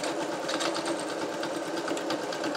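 A sewing machine stitches a clown bodysuit in a steady, rapid run of needle strokes, loud and close, continuing without pause and with no voices.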